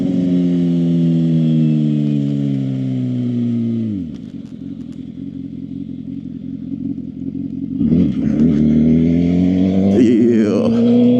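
A Suzuki GSX-R 750 motorcycle is ridden on the commute to work. Its loud, close engine note winds down midway to a low steady rumble, then revs up sharply again toward the end, with no talking.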